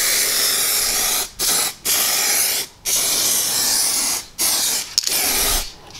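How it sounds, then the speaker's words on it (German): Cargraf 89 rust converter sprayed from an aerosol can onto rusty vehicle axle parts: a close, loud, steady hiss broken into about six bursts by short pauses. "wo man mal eben eine Sprühdose nehmen kann, einfach drauf machen und gut ist"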